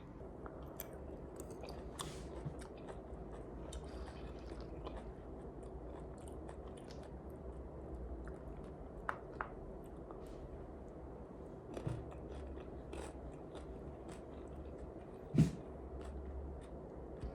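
Someone eats yogurt with shinbi peach and cherries, producing soft, close, quiet chewing and squishy bites with an occasional crunch, no talking.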